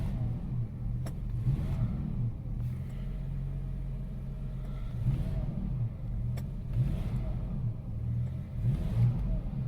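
A Jaguar XJ-S V12 HE sits parked while its engine is revved repeatedly, making a deep rhythmic rumble with several rising surges close by as the car rocks side to side.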